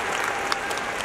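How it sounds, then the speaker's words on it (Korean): Audience applause at an open talk at the Busan International Film Festival, a dense, steady wash of many hands clapping close and loud throughout the brief moment, with no talk over it. "한 박수 부탁드립니다."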